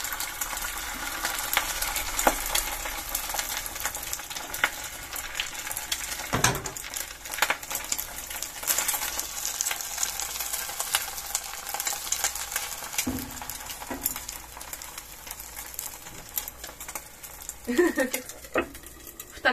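Food spatters and sizzles in hot oil in a home kitchen on an island, a steady close crackle punctuated by occasional clinks of utensils against the pan.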